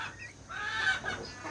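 A hen that cannot stand and keeps falling over, apparently paralysed, gives a few soft clucks, quiet and close against a faint background hum.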